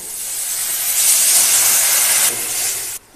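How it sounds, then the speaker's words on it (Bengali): Water hits a hot pan of spiced fish curry with turmeric and chilli, giving a loud steamy hiss and sizzle that swells, holds for a few seconds, then cuts off abruptly. "এবার জল দিয়ে দেবো।"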